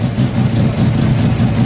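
A historic rally car's engine runs at a steady, loud idle with a deep, even rumble and a faint rhythmic pulsing, heard close up with no voices over it.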